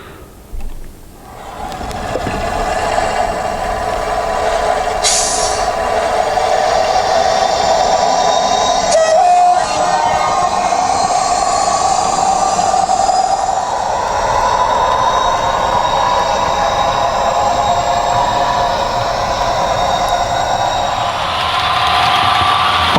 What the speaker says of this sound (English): I thought I'd finish by doing a quick walk around the layout with the trains running, but I put all the sound on